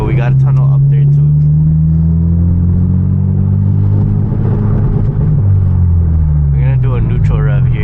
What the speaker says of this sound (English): A neutral rev here instead of popping the clutch.